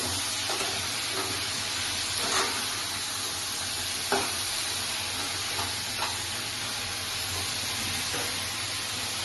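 Ridge gourd for jhinge posto is stirred as it fries in a pan, giving a steady sizzle with a few sharp scraping clinks of the spoon against the pan, close and without talking.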